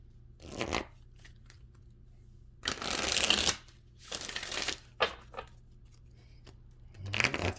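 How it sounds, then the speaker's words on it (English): A tarot card deck is shuffled by hand in several separate bursts of riffling and sliding, the longest in the middle, fairly quiet and close with no talking. "Get a couple of more good shuffles."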